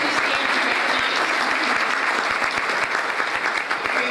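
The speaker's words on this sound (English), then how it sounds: "So let's give them a round of applause." An audience at a Human Rights Commission awards breakfast applauds, a dense sustained wash of many clapping hands, loud and close, with sharper individual claps ticking through the steady roar for the entire stretch.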